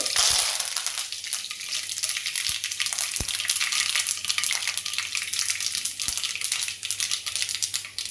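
Mustard seeds and curry leaves fry in hot oil in a wok-style kadai with dried red chillies: a steady, loud crackling sizzle that stays close throughout, broken by a few sharp pops from the spluttering seeds.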